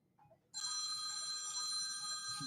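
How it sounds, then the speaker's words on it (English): An electronic telephone bell starts ringing after a brief quiet moment, a sustained bright trilling ring that continues steadily, fairly faint, with no voices. "Oh, the phones are ringing."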